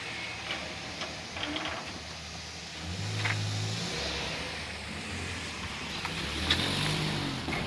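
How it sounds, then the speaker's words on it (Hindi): A car pulls in at close range during a family visit in Mirpur, Kashmir, its engine revving and rumbling steadily beneath faint background activity, with louder low engine surges at moments. "गाड़ी अंदर कर लो।"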